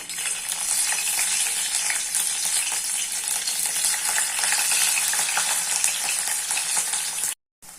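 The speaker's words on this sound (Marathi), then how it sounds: "असं पनीर तळून घ्यायचं" Paneer cubes frying in a generous amount of hot oil give a steady, dense sizzle that stays loud and even for several seconds, then cuts out briefly near the end.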